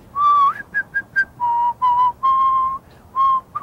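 A series of clear, melodic whistled notes, some short and some held, rising and falling in a simple tune with brief pauses between phrases.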